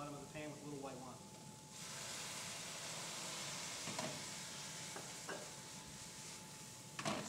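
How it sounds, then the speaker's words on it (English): White wine poured into a hot pan of browned mushrooms to deglaze it, giving a steady loud sizzle and hiss with some stirring scrapes, under a voice at the start. "We're going to deglaze that pan and get up all those little bits of flavor that are fond on the bottom of the pan with a little white wine."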